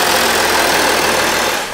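An Audi's engine runs with a steady, dense mechanical drone, loud and close, holding evenly without talk before easing off slightly at the end.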